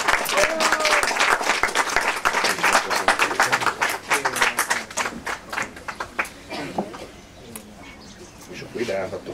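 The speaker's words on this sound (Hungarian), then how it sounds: "Nagy tapsot a szülőknek, hölgyeim és uraim!" Wedding guests clap for the bride's parents at a Hungarian bride-collecting ceremony, a dense burst of hand claps that thins and fades over several seconds while voices chatter underneath.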